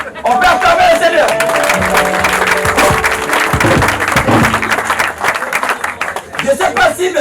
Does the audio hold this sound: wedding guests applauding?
yes